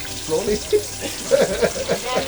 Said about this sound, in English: just take it up and quietly, peacefully, just drop it in slowly because it's going to fry